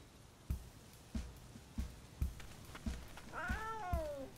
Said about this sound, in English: She's a wild cat, and this is where she belongs.